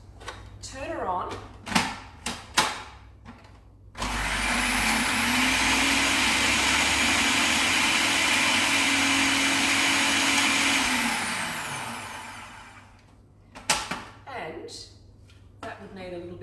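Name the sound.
food processor chopping kale into kale rice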